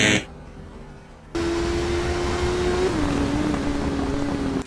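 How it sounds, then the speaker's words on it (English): A motorcycle in the TT Isle of Man racing game brakes hard and drops gears, its engine droning loudly and steadily with a pitch step down partway through, alone after a brief quiet lead-in. "Hard braking, changing down gears, turning a corner equals big mistake."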